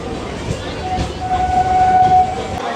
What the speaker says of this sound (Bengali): আমাদের ট্রেন এখন ঢুকছে নামখানা স্টেশনে।